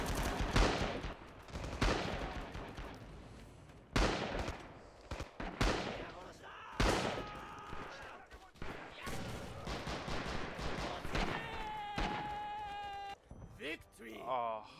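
Mortar and rifle fire in the video game Rising Storm: repeated heavy bursts and sharp gunshots break out across the battlefield at uneven intervals. Voices come through between and under the blasts, and a high whining tone rises near the end.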